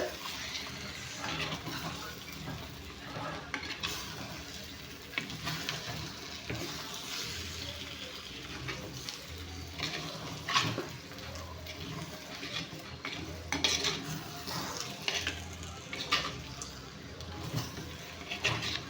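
Masala frying in oil in a pan, a soft, continuous sizzle with scattered crackles and pops across the whole stretch, while a person talks at times over the cooking.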